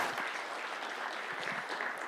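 Sustained audience applause fills a conference hall at a brand marketing summit, steady dense clapping throughout with no voices on top.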